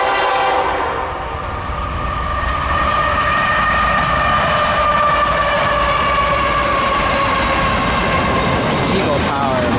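Passing freight train hauled by diesel locomotive units at a sunny railfanning spot, a steady loud rumble of engines and rolling cars with a long sustained horn blast running through.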